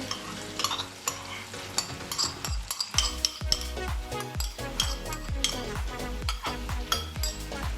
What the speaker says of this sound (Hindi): अच्छे तरीके से मिक्स कर लेंगे।